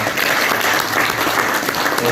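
A brief, loud burst of audience applause at a youth leaders' debate forum, many hands clapping densely and evenly throughout.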